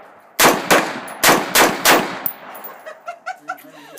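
Five loud, sharp AR-15 rifle shots ring out outdoors in an uneven sequence, each with a short echoing tail, followed by quieter metallic clinks and pings.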